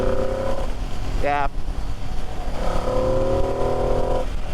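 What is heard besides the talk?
2025 Ducati Panigale V2S motorcycle engine lugging in sixth gear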